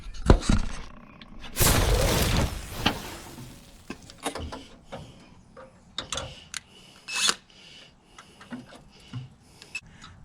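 Screws being driven into headlight adjusters on a C10 pickup, heard as close, quiet mechanical clicks and ratcheting bursts spread through the clip, with a louder scraping rush early on.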